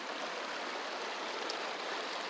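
A river runs over rocks in a steady broadband rush of water, continuous and fairly loud, heard alone without talk.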